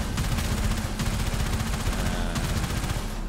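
A ship's cannon in the space-combat Railjack mode of the video game Warframe fires in a loud, continuous rapid barrage of booming shots, dense and sustained with no talking over it.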